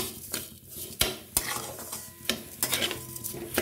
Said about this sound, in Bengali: এটাকে একটু ভাজা ভাজা করে নেব